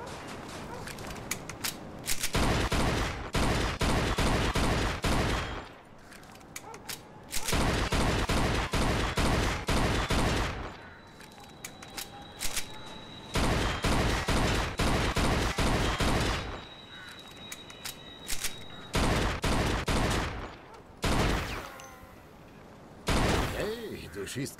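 Gunfire in the video game Mafia 2 comes in long, loud bursts of rapid automatic shots, broken by short pauses, with voices talking in between.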